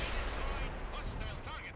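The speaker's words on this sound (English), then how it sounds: "Rocket fire." Rocket artillery barrage in the Soviet Assault campaign of World in Conflict, a dense continuous rumble of launches and blasts at moderate level, with battle noise sustained throughout.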